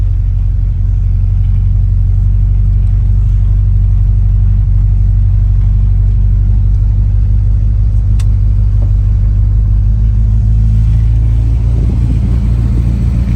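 Volkswagen car pulling away from an all-VW campout and car show at an RV park, its engine a steady loud low rumble throughout, rising slightly near the end as it accelerates.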